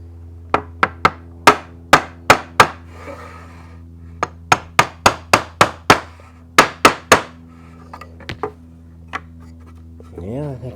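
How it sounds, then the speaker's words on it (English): A small hammer taps the joints of a wooden side chair during dry assembly in sharp, close strikes, some single and some in quick runs of several, then pauses before a few lighter taps. "Let's see if a little hammer is gonna"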